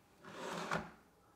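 A Blum undermount drawer slide pushed shut, a soft sliding rush building over about half a second and ending in a sharp click as the soft-close engages, then quiet.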